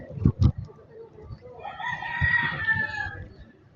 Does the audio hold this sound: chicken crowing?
yes